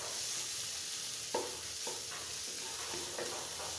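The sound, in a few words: stir-frying raw papaya bhaji with small shrimp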